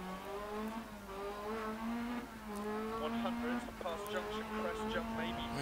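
Rally car driven on snow in the Dirt Rally video game: a revving engine climbs in pitch and drops back at gear changes, held at moderate level for several seconds.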